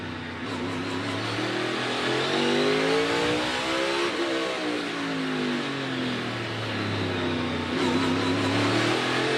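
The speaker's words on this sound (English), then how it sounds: "You hear how far down on RPM they get when they get back in the corners." NASCAR race cars lapping a tight short track during practice at the Los Angeles Coliseum, engines revving high on straights then dropping sharply in pitch through the corners, several passes blending into a continuous, fairly distant roar.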